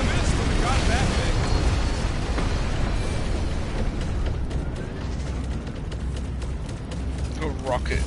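A dropship crashing and exploding in the Guardians of the Galaxy video game on PS4, a dense, roaring blast with rumbling debris that stays loud throughout.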